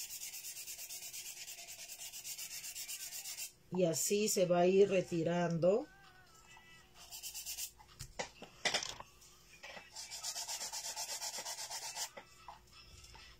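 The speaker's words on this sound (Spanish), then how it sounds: "Y una lijita suave, una lijita para madera, súper suave. Y lijan los contornos así." Soft, fine wood sandpaper rubs along the edges of a handmade thread holder in steady back-and-forth strokes, close up, with someone talking in between.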